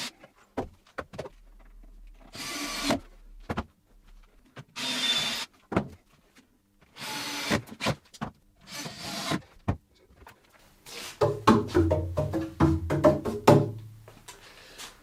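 Wooden workshop shelves of scrap wood in different thicknesses are tapped one after another, each knock giving a distinct hollow tone, spaced singly at first and then quicker, denser taps near the end.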